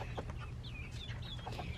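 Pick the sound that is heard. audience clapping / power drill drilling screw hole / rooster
rooster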